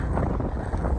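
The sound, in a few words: strong wind blowing into the microphone outdoors in snow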